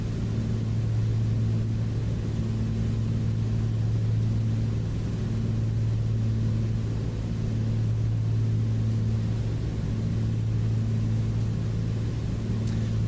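A2A Comanche light aircraft in Microsoft Flight Simulator 2020, its engine drone steady and continuous with strong low tonal hum and broadband wind noise over it, no talking.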